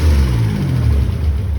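A car engine running rough, heard up close as a loud, low droning rumble that holds steady and slightly uneven for a moment, with no voices over it.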